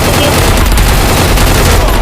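Gunfire in the Free Fire mobile shooter game while aiming zoomed in for a headshot, a loud, dense, continuous barrage filling the whole moment.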